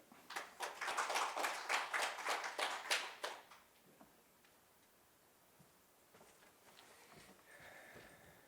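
A seminar audience claps for a chef's kimchi talk, a few seconds of sparse, fairly close hand claps that fade out, leaving quiet room noise.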